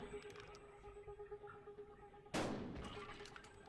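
A shotgun fires once in the video game Buckshot Roulette: one sudden, sharp blast midway that decays over about a second, after a quiet stretch of faint low room tone.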